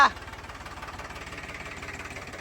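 A tractor engine runs while reversing, a steady low rhythmic chugging that stays even and moderately close throughout.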